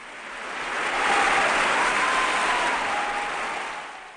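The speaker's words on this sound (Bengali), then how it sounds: "সেখানকার অতিথিরা দাঁড়িয়ে হাততালি দিয়ে চ্যাপলিনের প্রতি শ্রদ্ধা জানান" A standing ovation for Charlie Chaplin at the Oscars: dense crowd applause swells over a second, holds full and steady, then eases slightly over about four seconds.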